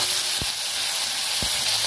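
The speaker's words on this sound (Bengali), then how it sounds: "টমেটো কুচিটা দিয়ে দেবো, ভেজে নেবো টমেটোটা।" Chopped tomatoes for cholar dal fry in a hot pan with a loud, continuous close-up sizzle, broken by two brief low knocks of a utensil.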